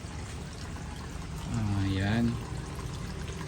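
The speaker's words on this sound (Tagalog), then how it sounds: "So nag-refill tayo ng tubig no, yan." Water pours into crab boxes at a crab farm, a brief swelling gush of filling water in the middle, set against a steady background hiss while a person talks nearby.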